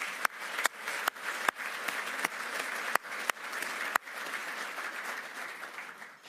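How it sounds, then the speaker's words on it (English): Audience applause rings out at a ceremony welcoming the new president of an actuarial academy, a steady broadband wash of many hands with a few sharper, louder claps standing out near the start, fading slightly toward the end. "Let's have a round of applause for them."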